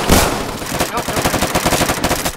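Rapid automatic gunfire from a loud gun in the Roblox game Phantom Forces, a dense, continuous burst of shots, close and loud throughout with no talk over it.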